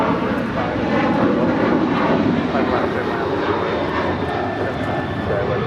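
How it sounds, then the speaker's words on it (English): United Airlines Boeing 737-900ER jet departing Los Angeles International bound for Houston, a steady broadband engine roar holding loud and even throughout, with a faint voice over it. "This is United Airlines 644 departing to Houston Intercontinental on a 737-900 ER."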